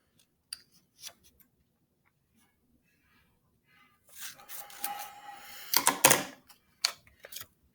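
Scissors snipping through a paper sentence strip during a classroom writing lesson: a few quick sharp snips, then a longer burst of close crisp cutting and rustling, followed by two short final clicks.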